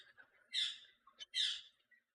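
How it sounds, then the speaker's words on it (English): Birds singing in the background at home, two clear chirping whistled phrases with a few softer notes between them, fairly faint and distant, with no speech. "You hear my birds in the background?"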